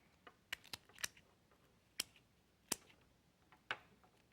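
Flower and rosemary stems being trimmed at an angle with scissors: a series of sharp, separate snips at uneven intervals, close and fairly quiet in a still room.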